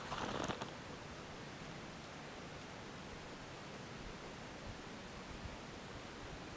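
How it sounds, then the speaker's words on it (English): Steady wind rustling through trees on a cold day, a soft, even hiss that holds at a low level throughout, with a brief louder gust right at the start and no voices. "Listen to the wind rustling in the trees."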